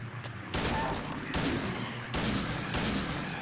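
Pistol shots ring out in the horror video game Silent Hill 2, about four loud booming blasts spaced roughly a second apart, each with a long decaying tail over quiet background.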